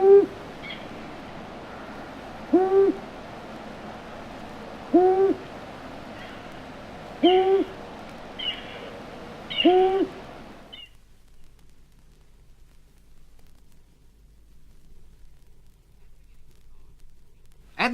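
A long-eared owl's late-winter soft moaning hoots in woodland repeat about every two and a half seconds, five calls in a row, then quiet stillness follows.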